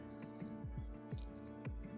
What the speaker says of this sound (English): the watch will give a beep sound